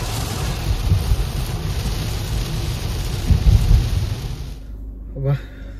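Heavy monsoon rain pours in a dense, loud hiss with deep rumbling bursts of thunder and wind buffeting the mic, then cuts out abruptly near the end.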